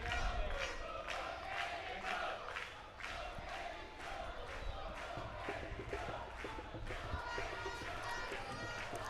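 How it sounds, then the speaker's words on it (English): A crowd at a school rugby final between St. Anne's and Carey cheers and shouts continuously for several seconds, a loud, dense roar of many voices with rhythmic surges. "Carey inspired by the cheering of the crowd"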